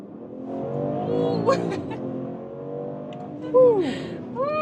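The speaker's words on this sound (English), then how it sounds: "So that was 60 to 120 kilometers an hour, easily delivered" BMW Alpina B3 GT in sport mode pulling hard from 60 to 120 km/h, a steady rising engine drone with harmonics climbing in pitch as it builds, a brief shift dip midway, while a person talks over it throughout.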